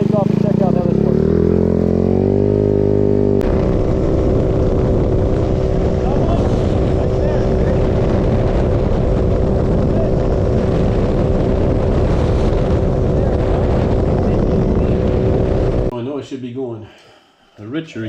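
A 50cc 139QMB scooter fitted with a 21mm PWK flat-slide carburetor, riding with a loud, steady engine drone and some wind noise, holding a constant pitch before cutting off near the end.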